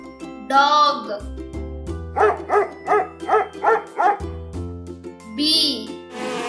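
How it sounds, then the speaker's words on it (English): A dog barks about six times in quick, evenly spaced bursts, set over light background music, with a voice speaking briefly before and after. "dog,"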